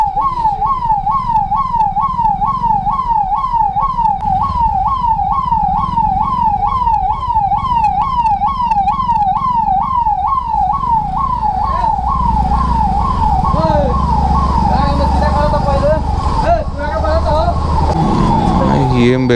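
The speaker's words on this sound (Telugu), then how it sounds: "ట్రాఫిక్ ఫుల్ జామ్ అయిపోయింది. ఇలా అంబులెన్స్ ఉంది" An ambulance siren wails in a fast, steady up-and-down cycle, loud and close, amid idling engines in a stalled traffic jam; the siren pattern shifts near the end while vehicle rumble continues.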